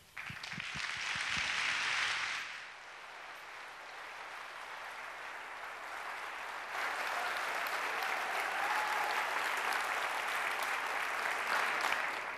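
Sustained audience applause fills a hall as a guest speaker is welcomed to an evening talk, loud and dense at first, dipping briefly, then swelling again and continuing steadily without speech.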